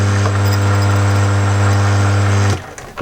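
A key cutting machine's motor runs with no key being cut, a loud, steady hum with a strong low drone that holds for about two and a half seconds and then cuts off.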